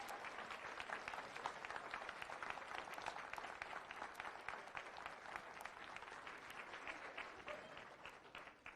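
An audience claps steadily throughout, a dense, even patter of many hands with no voices rising above it.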